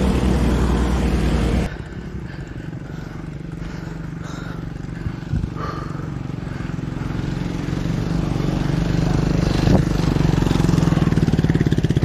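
Motorcycle engine laboring up a steep climb on a mountain road, a steady low drone that drops suddenly after a loud opening burst and then gradually builds in strain, close and continuous with wind noise.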